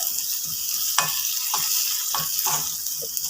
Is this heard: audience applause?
no